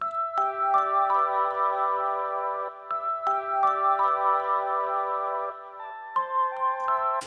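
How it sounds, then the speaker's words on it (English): Bright bells play a repeating melody in a music sample, clear sustained tones struck in a steady rhythm over a soft low backing, with no talk. "First of all, we have these bells."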